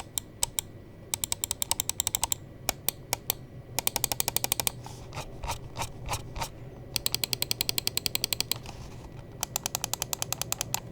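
Bursts of crisp, rapid button clicks from a Redragon G49 Pro gaming mouse, some single, some in fast rattling runs, close up against a quiet room.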